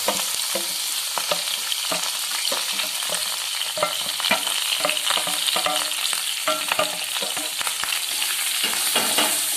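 Bitter gourd sautéing in a pan for Kerala-style pachadi, with a steady crackling sizzle and frequent spatula scrapes and taps throughout, close and continuous, no voices.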